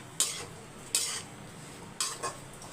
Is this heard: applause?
no